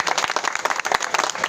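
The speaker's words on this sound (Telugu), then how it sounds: "గట్టిగా చప్పట్లు." An audience at a village bhajan competition claps loudly in dense, sustained applause with rapid overlapping hand claps, heard close and continuous for the whole short stretch.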